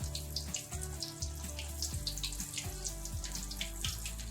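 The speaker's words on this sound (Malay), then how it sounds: "Minyak dah panas, kita goreng lah ya." Sardine-filled spring rolls frying in hot oil, a steady dense sizzle and crackle throughout, close and continuous with no talking.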